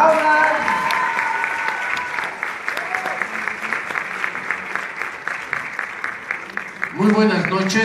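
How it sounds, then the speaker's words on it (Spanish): An audience claps at an evening award ceremony in Mexico, dense steady applause filling the room at moderate loudness, with a voice speaking over it near the end. "¡Aplausos!"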